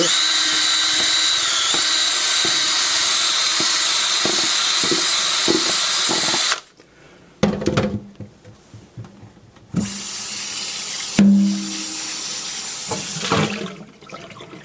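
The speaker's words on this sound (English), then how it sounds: "we got a couple of spots that need polishing here" Spots on a scoured pan being polished, a steady loud grinding whir for several seconds, then quieter rubbing and scraping, followed by another sustained abrasive run near the end.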